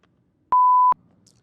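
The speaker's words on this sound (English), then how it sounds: "fucking notifications" A phone notification tone sounds once as a single steady, clean beep lasting under half a second, loud against a quiet room.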